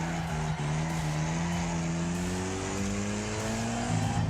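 A car in the racing game Wreckfest drones along with its engine humming steadily and slowly rising in pitch, a faint scraping drag from a dragging brake and something loose underneath blended into the continuous loud mechanical roar.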